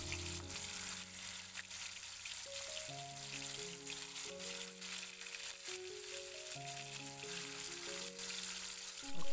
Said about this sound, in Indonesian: panaskan minyak, kemudian gorenglah ikan tadi seperti biasa